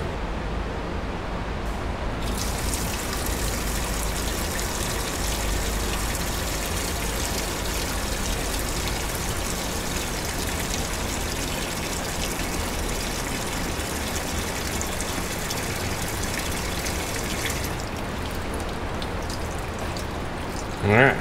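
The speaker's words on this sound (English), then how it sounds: "So I'll flush it out a couple more times just to be sure" Fuel flushing out of a Dodge Ram 1500 SST fuel system during a Hemi swap, a steady, loud gushing rush of liquid that runs continuously for most of the stretch before cutting off near the end.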